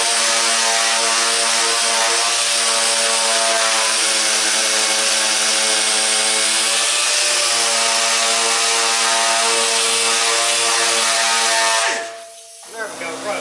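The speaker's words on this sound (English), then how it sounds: "I'm going to run over these bad spots with some 80, then I'll come back and sand it all nice and smooth with some 400" A power sander with 80 grit sandpaper grinds over surface rust in a loud, steady, high whine that runs unbroken for about twelve seconds before cutting off.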